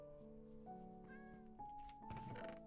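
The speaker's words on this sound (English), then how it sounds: "It would be nice to have these cats under control." Cat meows from Minecraft in hardcore mode, a couple of short mewing calls set over steady tonal background music, fairly quiet and without talk.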